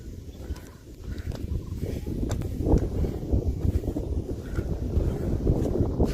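Wind blowing across a green hilltop by an old temple at Devara Betta, a steady low rumble and buffeting against the microphone, continuous and fairly loud throughout.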